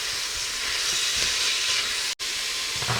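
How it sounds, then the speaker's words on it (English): Meat for a steak and mushroom pie is stirred and browned in a hot pan, a steady loud hissing sizzle with occasional scraping, broken by one very brief dropout near the end. "it's just a case of stirring this up now and browning the meat"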